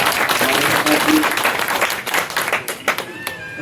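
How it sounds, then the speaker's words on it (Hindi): Audience at a political support event in Mumbai for a BMC corporator election claps loudly, a dense burst of applause that thins toward the end with scattered individual claps. "एक बार जोरदार तालियों से प्रकाश जी"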